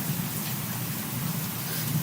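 Steady rain falling outdoors, a dense continuous hiss and patter of drops that stays even throughout, close and fairly loud, with no voices.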